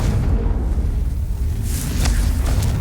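Confringo blasting spell in a Harry Potter video game: a loud, sustained low boom and rumble lasting nearly three seconds, with crackling debris flickering through it.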